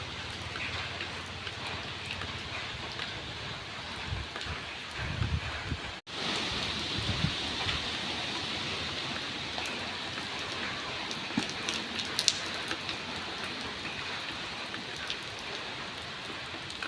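Rain falls on a flooded rice field at harvest time, a continuous soft patter and hiss heard from nearby. A few muffled thumps come partway through.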